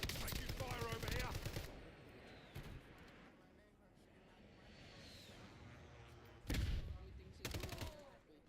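Rapid automatic gunfire bursts in a battle royale video game, sharp rattling volleys near the start and again near the end, with quieter ambient game sound and faint talk between them.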